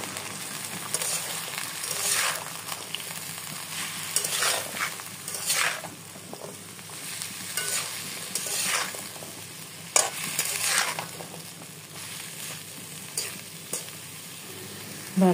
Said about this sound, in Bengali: হলুদের গুঁড়া, মরিচের গুঁড়ার পেস্ট দিয়ে দেব, দিয়ে ভালো করে কষিয়ে নেব